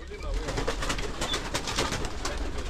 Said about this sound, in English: He just brought me new pigeons.